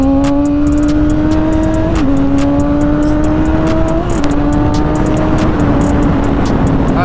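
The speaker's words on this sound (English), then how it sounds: "That second gear on this bike is crazy." A Kawasaki ZX-6R motorcycle accelerates in second gear on an open highway, its loud, close engine whine climbing steadily in pitch under heavy wind roar with no break.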